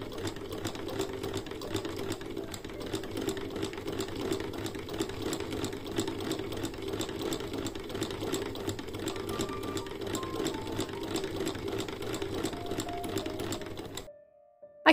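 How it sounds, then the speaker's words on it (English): Sewing machine stitching the front seams of a high-waisted, Victorian-inspired skirt, a steady rapid mechanical whir and chatter running continuously for about fourteen seconds, then stopping abruptly. "I sewed the 2 front seams."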